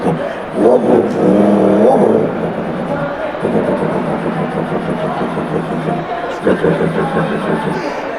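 A voice mimics a poorly tuned AC Delco car starter, a harsh, uneven mouth-made cranking and rumble that runs loud and continuous with brief dips, sounding like a struggling engine turning over.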